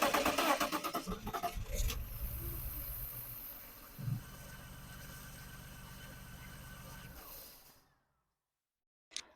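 A BMW with an M54 inline-six engine cranks in rapid rhythmic pulses, catches with a brief surge, then runs roughly for a few seconds before being shut off into silence, with a single knock at the end.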